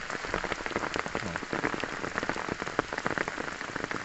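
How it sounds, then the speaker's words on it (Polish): Heavy downpour drumming steadily on surfaces outdoors near Szklarska Poręba, a dense, continuous patter of drops with no pause across the whole stretch. "tylko niech przestanie padać. Albo chociaż trochę zelży."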